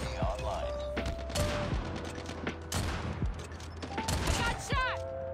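The Kilo sniper rifle fires repeatedly in the mobile shooter COD Mobile, sharp cracking shots landing in irregular bursts with metallic clicks between them, close and loud amid other battlefield noise.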